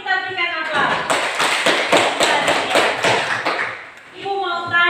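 Students in a classroom applaud in a short burst of rhythmic clapping lasting about three seconds, loud and close, framed by someone speaking before and after.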